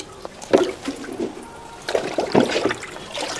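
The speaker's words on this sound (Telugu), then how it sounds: "ఇది కట్ చేసిన తర్వాత మేము ఇప్పుడు కూల్ వాటర్లో వేస్తున్నాం" Cut soya paneer blocks drop into cool water in a small soya food business. Scattered splashes and plops come in two clusters, with light trickling between them and no voices.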